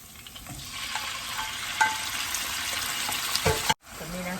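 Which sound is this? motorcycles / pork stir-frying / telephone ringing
pork stir-frying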